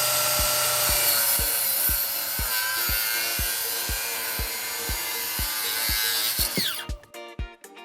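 A handsaw cuts bench support boards to length in a rapid, even rhythm of rasping strokes, loud and close, ending with a few quicker scrapes and a brief wooden clatter as the cut finishes.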